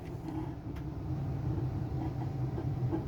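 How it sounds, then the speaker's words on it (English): Inside a carriage of an XPT passenger train approaching Kempsey, a faint, continuous low rumble of the train running along the track. "That's not me making the noise, that's the train spin."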